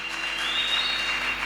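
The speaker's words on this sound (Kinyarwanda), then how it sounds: "Reka tumukubitire amashyi" Audience clapping for a performer, a brief steady burst of dense applause.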